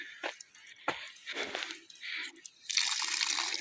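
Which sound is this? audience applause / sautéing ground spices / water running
water running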